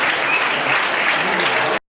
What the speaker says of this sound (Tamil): அவர்களிடம் கரகோஷம் செய்து வாழ்த்துமாறு அன்போடு கேட்டுக்கொள்கின்றோம்